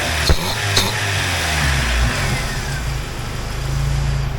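Jeep Wrangler YJ with a newly installed 2.5L four-cylinder engine running steadily at a close, even mid-pitched drone, with a couple of brief clicks early and a slight rise in revs near the end.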